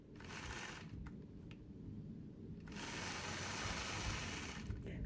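Sewing machine stitching a quilt block along a ruler, a steady close mechanical whir running in two stretches with a short pause between them, no talk.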